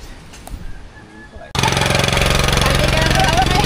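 Engine running that resembles a cement mixer motor, bursting in loud and steady with a rough, rapid chugging rhythm after a quieter stretch with a voice in it.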